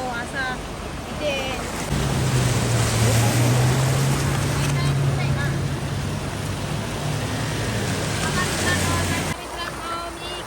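Floodwater from heavy monsoon rain sloshing and rushing steadily around someone wading through it, a loud continuous churning wash with a low droning hum running under it for most of the stretch.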